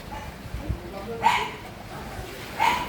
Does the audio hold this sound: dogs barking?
yes